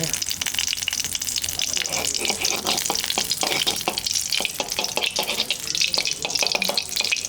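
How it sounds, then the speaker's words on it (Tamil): Ghee heating in a frying pan while making pirandai chutney, a close, continuous crackling sizzle with scattered sharp pops throughout. "நெய் நல்லா காஞ்சிருச்சு. நெய் காஞ்ச உடனே கொஞ்சம் கடுகு போட்டுக்கோங்க."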